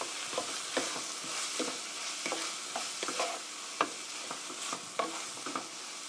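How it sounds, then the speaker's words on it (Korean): A spoon stirs sesame oil through a mushroom rice bowl mixture in a hot pan, giving a steady soft sizzle broken by repeated scraping strokes at an even, moderate loudness with no voices. "참기름 1 테이블스푼 넣어주시고요. 고루 섞어주세요."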